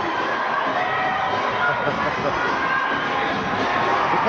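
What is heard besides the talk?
rodeo crowd cheering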